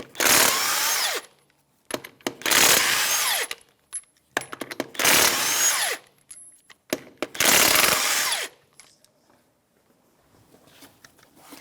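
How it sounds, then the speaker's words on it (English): A power impact tool spinning off the wheel lug nuts of a 2013-2018 Toyota RAV4, loud whirring bursts repeated four times, separated by metallic clinks of nuts and socket, then quiet handling sounds. "remove the lug nuts."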